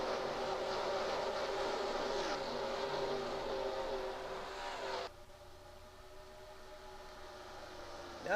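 Race cars roaring under green flag at a Sunoco Cup Series oval race, a dense, loud engine drone that thins abruptly partway through as the pack passes, leaving a fainter steady hum.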